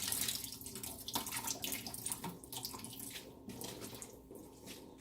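Tap water pours steadily into a sink as sea moss is rinsed, a continuous close splashing rush with no pauses and no talk.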